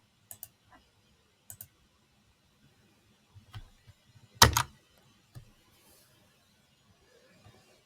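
Computer mouse clicks, sparse and sharp, a few single and double clicks spread out in a quiet room, with one louder cluster in the middle.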